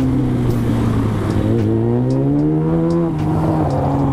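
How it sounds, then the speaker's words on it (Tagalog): A Yamaha R6 inline-four motorcycle revs nearby, its steady engine tone rising in pitch as it accelerates, then dropping and settling, loud and without speech. "Oops, may narinig ako inline 4 mga bro."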